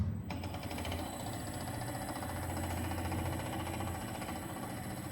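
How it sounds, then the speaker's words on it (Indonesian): A three-phase induction motor runs in reverse on an electrical engineering demonstration rig, giving a steady, continuous mechanical hum and whine with a faint rhythmic flutter throughout, no voices present. "Motor berputar."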